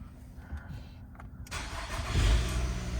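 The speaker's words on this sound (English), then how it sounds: "Let's start the car." A 2013 Nissan Altima SV cranks and fires up in a garage, a low engine rumble swelling after a brief quiet stretch and settling into a steady, close idle.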